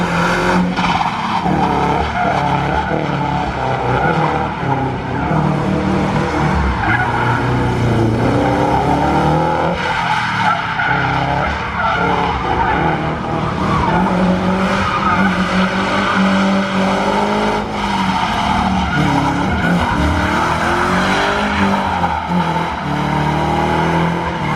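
Cars drift on a street, tires squealing and skidding continuously as engines roar and rev. The sound is loud and sustained, with no pauses across the stretch.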